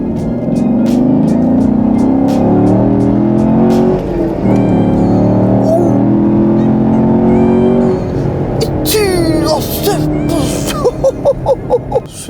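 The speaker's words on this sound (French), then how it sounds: "Tiens, regarde, j'accélère. Bon, c'est bien quand même, hein, on l'entend le V8" A Chevrolet Camaro V8 accelerates on the road, its deep engine drone climbing steadily in pitch, then swelling into louder revs with sharp pops and crackles near the end, while someone speaks intermittently over it.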